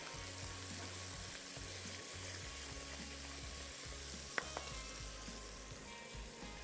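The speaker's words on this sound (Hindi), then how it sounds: "इसको अच्छे तरीके से करना है मिक्स।" Dum bhaji masala frying in a pan with chicken powder and salt, a faint continuous sizzle under a low hum, with a single sharp clink of the spoon partway through.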